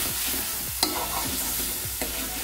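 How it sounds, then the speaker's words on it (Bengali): Fish curry spices such as turmeric, Kashmiri chilli powder and salt sautéing in a pan, a close, continuous sizzle broken by scraping stirs and a couple of sharp utensil knocks. "সব কিছুকে এখন আমি ভালোভাবে কষিয়ে নেব"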